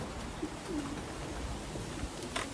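A racing pigeon, home from a 114-mile young-bird race, gives a few soft low coos close by against steady outdoor background noise, with no voices.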